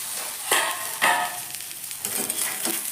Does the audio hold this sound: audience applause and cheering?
no